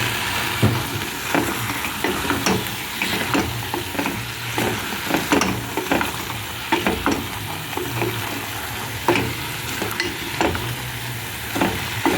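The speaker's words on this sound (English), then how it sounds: "Then you give it a good stir by adding the garlic" Garlic being stirred into beef stew in a pot, a steady sizzle of frying with repeated scraping and clinking from the stirring utensil, close and clear, with no talking.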